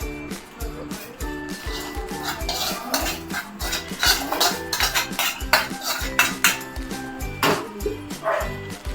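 A pot of paneer curry is stirred with a utensil after water is added, giving repeated metallic scrapes and clinks against the pot over a steady low background, with brief sharper knocks throughout.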